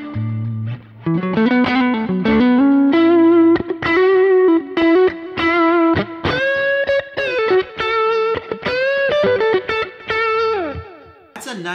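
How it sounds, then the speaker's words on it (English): Fender Stratocaster on the neck pickup played through a Kemper amp, a distorted lead line of sliding, sustained notes with chorus-like effects, loud and alone with brief gaps between phrases. "Nice thick Strat neck sound"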